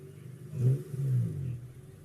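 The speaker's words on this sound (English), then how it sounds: "Jason Harding coming in to the pits right now" Race car, a Katech Z06 or Civic at a speedway quarter-final, pulling in toward the pits as a low engine rumble that swells briefly twice at moderate distance and then fades, with no talk over it.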